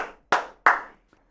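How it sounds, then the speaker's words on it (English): Two sharp hand claps in quick succession, close and loud, with a faint tap after, marking applause at the close of a Seattle Seahawks fan-led NFL mock draft segment on a live news show. "Give yourselves a round of applause."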